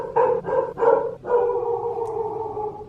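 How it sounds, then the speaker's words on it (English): Several dogs barking nearby: three sharp barks in quick succession, then a longer drawn-out bark or howl that trails off, heard alone with no talking. "Those darn dogs."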